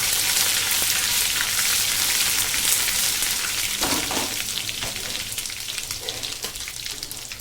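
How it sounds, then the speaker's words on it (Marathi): Garlic-ginger paste hits hot oil for a spicy soybean curry, giving a loud, close, steady sizzle and crackle that eases slightly toward the end, with a soft stir and no talk. "हे पहा तेल पण छान गरम झालेलं आहे त्याच्यात मी काय करणार आहे ही लसण अद्रकची पेस्ट आहे ना एक चमचा टाकून घेते मी"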